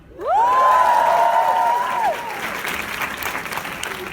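An audience applauding at a university stand-up comedy show, loud dense clapping with a drawn-out whoop rising over it at first, then thinning to scattered claps and crowd noise.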